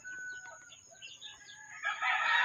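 A gamecock rooster crows nearby, its call rising into a loud, strained cry at the end, over a faint steady high tone.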